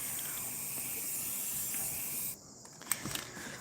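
A spray can painting furniture, a steady close hiss of spray lasting about two seconds, then cut off, followed by a few light clicks and handling noises.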